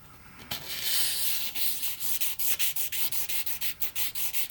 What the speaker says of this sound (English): we're probably going to take the little burrs off the inside that would have a tendency to catch